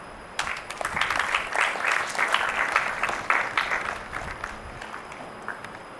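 An audience applauds a speaker taking the stage at a school event, steady clapping rising and holding for several seconds before thinning out near the end.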